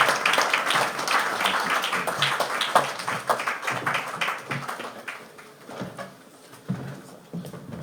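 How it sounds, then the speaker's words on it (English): An audience at an investment forum in London claps for the Oyo State governor, a loose scattering of hands with uneven rhythm that thins and fades toward the end. "Let's keep clapping until he gets here."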